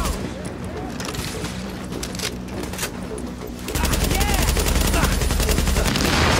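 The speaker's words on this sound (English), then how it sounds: "Oh, grenade got me." Grenade blast amid a gunfight in the video game The Division, with steady rapid gunfire bursts that swell into a louder, denser barrage partway through, close and continuous.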